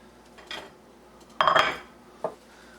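Eggs dropped into a heated copper Revere Ware pan for scrambling, giving a few light clinks and a brief burst of sizzling clatter, with nobody speaking.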